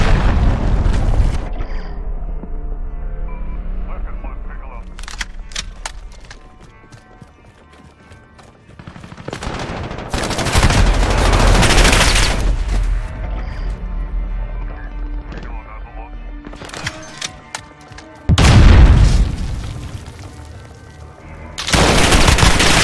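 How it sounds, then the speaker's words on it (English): Call of Duty Modern Warfare multiplayer, with an incoming enemy cruise missile: bursts of heavy gunfire and deep booming explosions in several loud clusters, with quieter gaps between them and in-game voice callouts. "Enemy cruise missile incoming."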